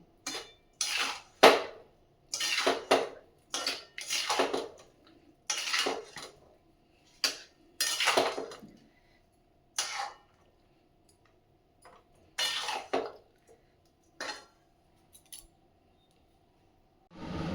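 Mango pickle stirred in a metal pot, giving a run of sharp scraping and clinking strokes in irregular bursts with brief pauses between them, close and fairly quiet.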